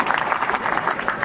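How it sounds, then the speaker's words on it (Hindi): Audience applause for the principal at a Republic Day gathering at a medical college, a dense, steady patter of many hands clapping close by. "आइए उनके इस नेतृत्व और समर्पण के लिए जोरदार तालियों"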